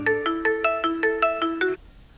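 A mobile phone rings with a bright electronic tone, a quick run of about eight evenly spaced melodic beeps, clear and close, cutting off abruptly into near silence.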